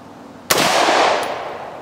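A single sharp shot from a Colt AR-15 rifle fired outdoors, loud and close, followed by a long rolling echo that slowly fades.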